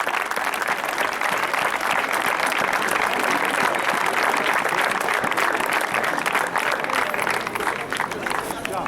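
Audience applause at a charity football event in La Ciotat, dense continuous clapping from a crowd, loud and steady for the whole stretch, with voices mixed into the noise.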